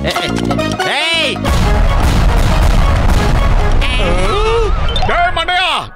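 Animated bomb explosions from a Motu Patlu cartoon with an invisible bomb rumble and crash loudly and continuously behind the scene, mixed with cartoon sound effects and voices.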